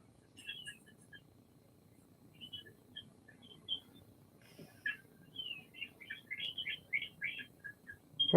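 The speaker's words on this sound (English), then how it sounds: "Hear the birds? Can you hear that? That's the birds." Birds chirp outdoors in short, bright bursts, sparse at first and then more frequent, with faint low background noise and a sharp knock at the very end.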